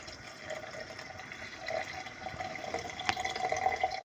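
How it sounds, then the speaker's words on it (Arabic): Water poured into a bowl of ground spices such as black pepper and caraway for Moroccan harira, a soft continuous trickle and splash, close and fairly quiet, swelling slightly toward the end. "وغادي نزيد عليهم الماء ونميكسيهم"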